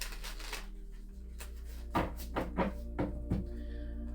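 Tarot cards are shuffled by hand, a series of soft, quick riffling bursts and taps up close in a quiet room.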